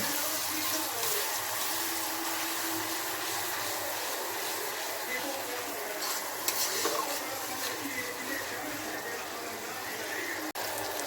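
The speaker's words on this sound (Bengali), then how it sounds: "এবার ভালো করে একটু মিক্সড করব।" Chicken masala being stirred in a pan after butter paste water is poured in, with continuous wet scraping and gentle sizzling, close and steady, plus a sharp clink near the end.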